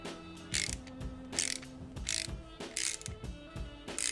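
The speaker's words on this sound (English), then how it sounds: "You're going to grab yourself a small socket. Now we're just going to crank away" A small socket ratchet cranks steadily to press a bushing into an aftermarket motorcycle lever, giving repeated bursts of bright clicking about every half second, close and fairly loud with no talk.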